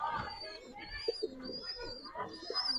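Giribaz pigeons coo softly and repeatedly, low warbling calls close by, mixed with faint chirps and background chatter of people talking.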